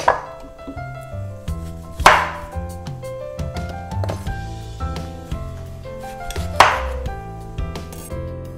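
A knife trims the ends off a lemon or similar produce on a board, with two sharp chopping strikes standing out against a background of kitchen music playing throughout.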